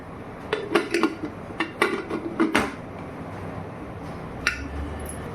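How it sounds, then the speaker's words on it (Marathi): Metal clanks and clicks close by as a pressure cooker lid is fitted and turned, a quick cluster of knocks followed by a quiet stretch and one last tap. "आता आपण हे कुकर बंद करून घेऊया"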